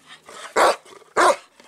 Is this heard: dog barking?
yes